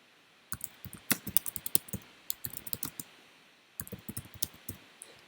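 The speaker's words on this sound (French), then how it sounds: "je tape la commande show paramètre SP-File" Keystrokes on a computer keyboard as an Oracle database command is typed: bursts of quick, close clicks in two runs, separated by a short pause.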